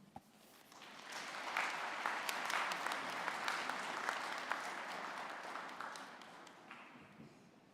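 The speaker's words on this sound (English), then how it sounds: "can we kindly give a more audible applause" An audience claps at a university graduation ceremony. The applause swells from a few hands into a full, steady clatter and then slowly fades toward the end.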